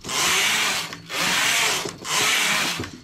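Domestic knitting machine carriage knitting four rows at tension setting 5 on a tip top ribbing piece, three loud sweeping passes about a second each with brief gaps between, rough rasping texture, close and alone.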